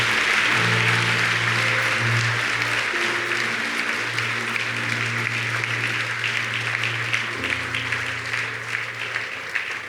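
An audience applauding at a talk or sermon, a dense, sustained clapping that fills the whole stretch at steady volume, with a low hum and faint voices underneath.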